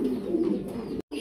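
Fancy pigeons for sale coo in low throbbing calls, close and clear, several overlapping rolls of cooing that run steadily before a brief cut to silence.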